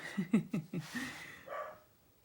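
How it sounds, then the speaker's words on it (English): A doodle dog barks several times in quick succession nearby, a short run of sharp yips trailing off into a softer whine. "Pay no attention to the doodle barking."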